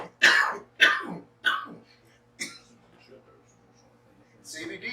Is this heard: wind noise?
no